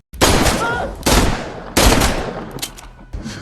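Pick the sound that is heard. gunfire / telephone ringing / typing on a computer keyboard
gunfire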